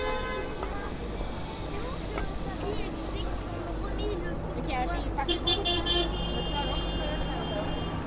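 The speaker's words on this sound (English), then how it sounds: "Looks like there's big traffic right here, a lot of traffic jams." Jammed traffic on 5th Avenue in New York City fills the street with a constant rumble of engines, and car horns toot repeatedly in short and longer blasts, some near and some farther off, while people talk nearby.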